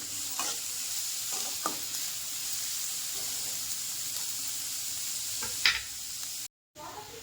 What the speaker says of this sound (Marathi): तेल कांदा असं तेलामध्ये छान तळून घेणार आहे